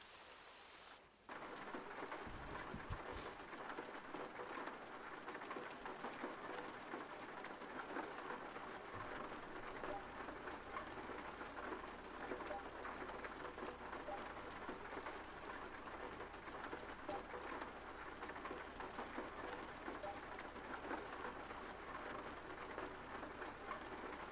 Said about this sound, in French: on a le scénario, il pleut